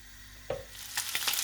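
Salmon fries in a pan for a creamy coconut lemon sauce dish, a quiet sizzle broken by a soft knock and then a few bursts of crackling as the fish is moved.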